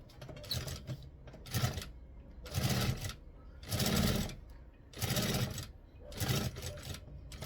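Domestic sewing machine stitching along the edge of a fabric bag, close and loud, running in five or six regular bursts of motor whir separated by short pauses, with no talk.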